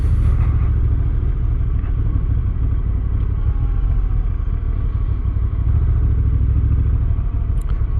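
A Honda NT1100 motorcycle with a DCT transmission rumbles steadily while being ridden on city streets, its engine drone loud and close throughout.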